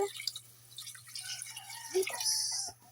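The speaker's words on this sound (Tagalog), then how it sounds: "Maglalagay ako ng tubig" Water poured into a cooking pot of chicken tinola, a light trickling, dripping sound with a faint steady hum underneath, brief bursts of splashing near the end before it cuts off.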